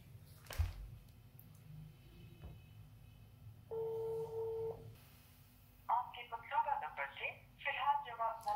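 An outgoing telephone call rings once as a steady electronic ringback tone lasting about a second, unanswered, with faint background hum before and someone talking afterward.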